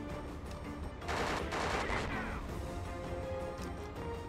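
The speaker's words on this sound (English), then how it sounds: "I just shoot the tank." Gunfire is aimed at a tank in Conflict: Desert Storm 2, heard as a loud crashing burst of shots and impacts that swells, then fades over a constant low background roar.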